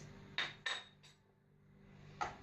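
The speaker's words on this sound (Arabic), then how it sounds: "دابا غادي ناخذوا المعلقه باش نزيدوا الكاكاو" A spoon scooping cocoa into a bowl for a glaze, making four light clinks against the bowl, three close together and one after a short pause, quiet and near.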